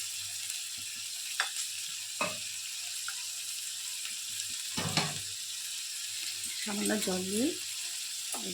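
Bitter gourd (karela) frying in a pan gives a faint, steady sizzle with a few scattered clicks and scrapes, and one brief whistling tone near the end.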